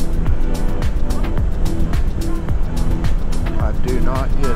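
A car speeds past on a scenic desert byway near the Colorado River in Moab, Utah, a loud steady engine and road rush heard from a moving motorcycle, with wind noise throughout.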